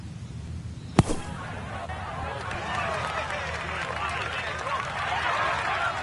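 In the PGA Tour 2023 video game, a golf ball is blasted out of a sand bunker with an explosion shot: one sharp crack, followed by a spraying, hissing wash of sand that lingers over a low background.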